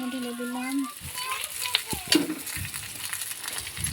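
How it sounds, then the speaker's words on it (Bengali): Potatoes and browned onions frying in a pan, a soft sizzle with scraping and clinks of stirring after a short stretch of talking at the start. "পেঁয়াজটা লাল হয়ে গেছে, আলুগুলো ঢেলে দিলাম"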